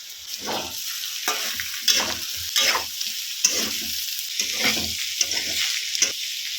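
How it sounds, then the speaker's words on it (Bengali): Boiled, drained bottle-gourd peel is stirred and fried with onion and potato in a pan. Rhythmic scraping strokes cut through a steady sizzle, close and fairly loud, with no talking. "এবার এটাকে ভালো করে নেড়ে ছেড়ে ভেজে নেব"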